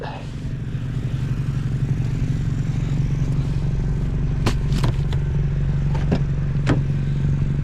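A car driving along, a steady low engine and road rumble running throughout with a few sharp clatters and scrapes partway through.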